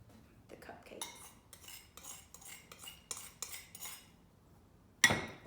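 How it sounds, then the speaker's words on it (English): Caster sugar and light Flora margarine are creamed together in a bowl with a utensil, giving soft scraping strokes and clinks against the bowl, with a sharper knock at the end. "Next, I'm going to cream together the sugar and the margarine"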